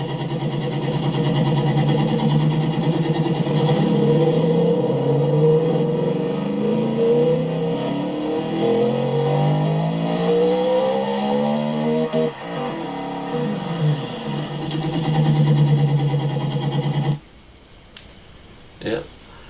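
A 1974 supercar in the Automation video game with dual 4.25 straight-through exhaust pipes, a two-way catalytic converter and four-wheel drive revs loudly and steadily, engine pitch climbing and falling, before cutting off near the end.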